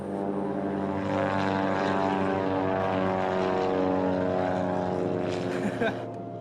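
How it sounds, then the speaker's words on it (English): A propeller plane's engine spools up before takeoff in Papua New Guinea, making a loud, steady, close droning roar that holds throughout. "I can hear our plane spooling up, getting ready to leave us behind."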